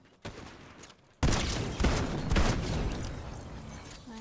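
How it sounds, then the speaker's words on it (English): Gunfire in Fortnite Zero Build, a sudden loud burst of rapid shots that continues as sustained fire for several seconds at close range. "Oh, they're shooting me."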